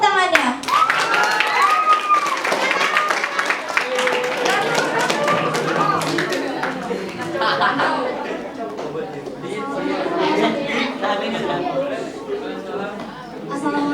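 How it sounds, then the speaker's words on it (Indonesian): Clapping from an audience at a school student council (OSIS) candidates' debate, a dense steady patter of hands with chatter and voices mixed in throughout. "Mari kita beri tepuk tangannya."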